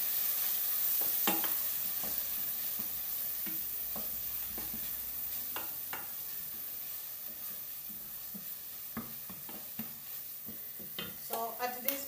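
Spanish lentils stirred in a pan, with spoon scrapes and soft clicks coming in irregular bursts over a faint, steady sizzle. The bursts grow busier near the end. Close and fairly quiet, with no talking.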